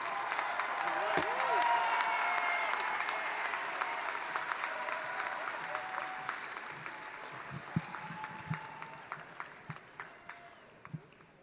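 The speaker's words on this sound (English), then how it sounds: "Everyone, let's give another round of applause for Celia Cornelius." An audience at a Renton Technical College commencement claps in a sustained round that starts strong and thins into scattered individual claps toward the end, heard from a distance.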